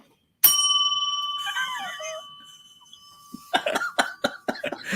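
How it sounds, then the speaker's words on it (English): A single bell strikes once, loud and close, and rings out with a long clean tone that slowly fades over about three seconds before clattering handling noises follow. "The bell."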